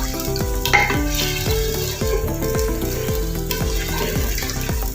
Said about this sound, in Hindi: बीफ शामिल करके इसकी हमने 10 मिनट तक अच्छे से भुनाई करनी है